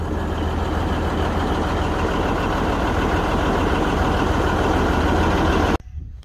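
A picker crane truck's engine runs steadily at a loud, low, rumbling idle near a gravel lakeside work site. It cuts off abruptly near the end, leaving quiet.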